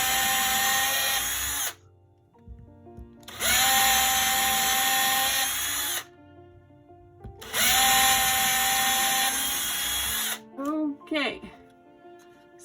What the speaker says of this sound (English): you may want to mark on your drill bit how deeply you need to drill